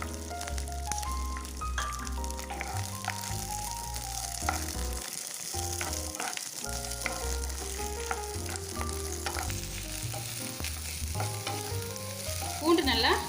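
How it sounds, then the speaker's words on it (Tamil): A cup of garlic fries in oil in a pan, giving off a continuous close sizzle with occasional stirring scrapes throughout and a slightly louder burst toward the end. "பூண்டு நல்லா செவக்க வறுத்துக்கோங்க"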